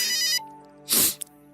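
A phone ringtone plays a loud, tonal electronic melody for an incoming call, then cuts off. A sharp rustling burst and a brief click follow.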